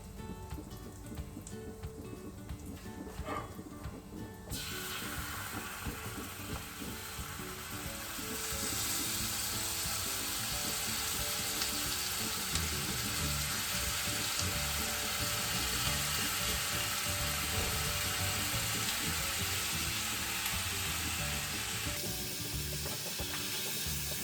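Green chillies fry in a pan with a dense, steady sizzle that grows louder and fuller partway through as cream goes in, then a hissing wash of crackle continues close by with no voices.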